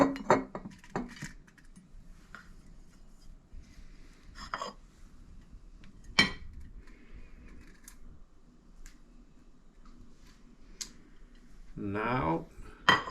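Scattered clinks and taps as lemon peels drop into a glass jar, with soft rustling between them and a brief murmuring voice near the end.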